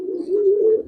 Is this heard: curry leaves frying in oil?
no